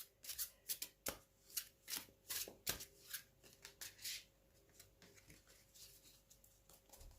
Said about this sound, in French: je bats bien les cartes